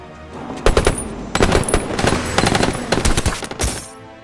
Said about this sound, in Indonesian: Alhasil dia pun diberondong peluru oleh Charlie dan anak buahnya.